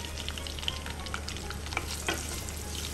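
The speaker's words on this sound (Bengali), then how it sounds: "এখন পরিমাণ মতো পেঁয়াজ কুচি এটা দিয়ে দিব।" Chopped onion frying in hot oil in a pan, a dense continuous sizzle with faint crackles and pops, heard up close with no talking.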